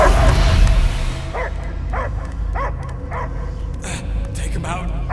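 Repeated dog barks and yips in Marvel's Guardians of the Galaxy, a steady run of mid-distance barks following a loud rumbling opening, with voices talking over parts of it.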